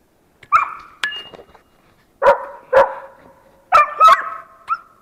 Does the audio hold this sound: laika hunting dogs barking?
yes